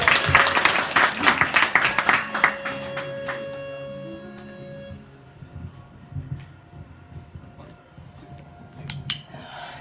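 Audience clapping at a live Christmas concert in a bar, a burst of applause that fades after a few seconds, leaving quiet room noise and scattered claps.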